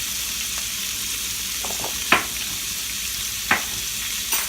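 Meat frying in a pan for crispy skin, a steady close sizzle with a few sharp pops and spatters scattered throughout.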